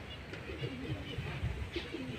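Racing pigeons coo softly in a loft, low repeated throaty murmurs over a quiet background hum, with a faint bird chirp.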